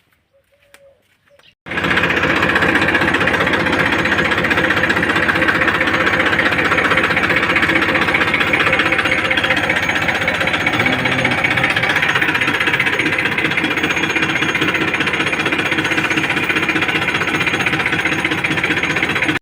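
A farm tractor engine runs in a cumin field ready for pesticide spraying. It kicks in after a moment of near silence, then holds a loud, steady, rattling drone close by for the rest of the clip.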